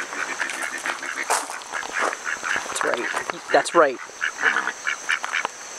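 A duck quacks in short bursts near the grounds of an inn garden, mixed in among people talking and walking outdoors.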